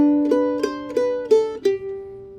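A mandolin plays a short melody as five evenly struck separate notes, each plucked cleanly and close, with the last note left ringing and fading.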